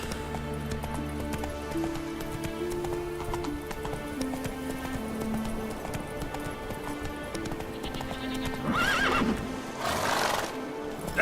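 The horse Roach in The Witcher 3 gallops with rapid rhythmic hoofbeats over game music, then gives a loud, close neigh near the end.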